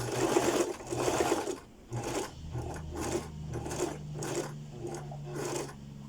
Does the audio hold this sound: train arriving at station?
no